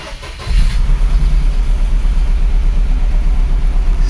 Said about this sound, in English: Start the scope and we start the car.